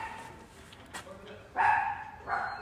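A dog barks indoors during a conversation with a tenant, giving two loud bursts of barking near the end over fainter background chatter.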